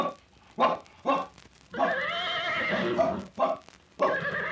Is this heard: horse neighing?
yes